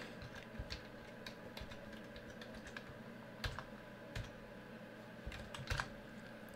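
A computer keyboard is typed on at a steady pace, the keystrokes close and faint, with a few louder clusters of clicks toward the end over a low background hum.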